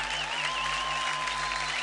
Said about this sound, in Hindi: जोरदार तालियां शक्ति के लिए